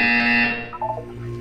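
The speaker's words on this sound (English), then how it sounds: "When you hear the buzzer, look up at the ceiling." A buzzer sounds in the Portal 2 video game, a steady loud electronic tone holding for about half a second before fading into softer game sounds.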